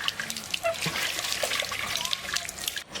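Water trickles and splashes as a fish, snakehead (shol), is washed by hand, a close, uneven running and dribbling sound with small splashes, no speech, ending in a brief pause.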